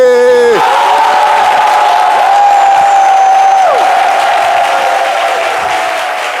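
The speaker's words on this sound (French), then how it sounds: "Si vous êtes d'accord que les éléphants vont gagner cette CAN, applaudissez." A studio audience claps and cheers in a dense, loud wash of applause with whoops and a droning horn on top, holding steady before easing slightly at the end.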